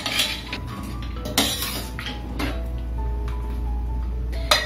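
A metal spoon stirs beef curry in a pressure cooker pot, scraping and clinking against the sides in a few distinct, close strokes with quieter stirring between them.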